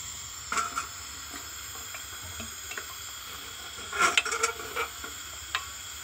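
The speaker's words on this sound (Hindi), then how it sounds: "देखिए गैस चालू हो गया।" A gas stove burner lit under a vessel holding liquid while making homemade perfume: a steady close hiss with scattered clicks and light clatter, briefly louder around the middle, with no talk.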